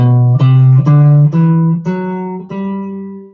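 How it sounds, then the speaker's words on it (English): A G Ionian scale is played as a run of seven sustained, bright, tuner-like pitched notes stepping steadily upward, each ringing clearly with no talk over it. "So if we're playing a G Ionian, it sounds like this."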